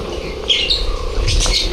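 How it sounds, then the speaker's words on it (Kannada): A couple of short bird chirps and tweets ring out amid the trees at a resort in Wayanad, brief bright calls over a soft background hum. "ಇಲ್ಲಿ ಬರ್ಡ್ಸ್ ಎಲ್ಲ ಇರೋದು ಒಂಥರ ಎಷ್ಟು ಚೆನ್ನಾಗಿ ಸೌಂಡ್ ಚೆನ್ನಾಗಿದೆ."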